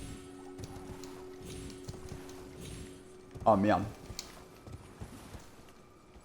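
Horse hooves clopping rhythmically in Elden Ring, steady muted beats running throughout under a man's speech, with a brief louder burst partway through.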